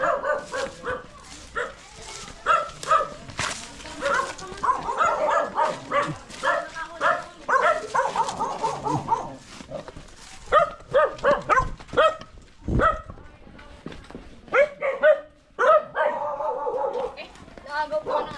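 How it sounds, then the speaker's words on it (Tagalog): A rescued dog barks and whimpers in short, repeated bursts, sometimes up close and sometimes a little farther off. People talk over much of it, and a boat motor runs in the background. "Wala na, dito na yung aso."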